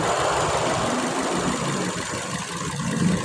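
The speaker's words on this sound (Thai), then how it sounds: "เครื่องยนต์จะสั่นนะครับเห็นนะครับ" A 2007 Toyota Vios engine with fuel cut to one cylinder by a scan tool idles roughly and unevenly, with a low knocking shudder and irregular vibration, close and steady for a few seconds.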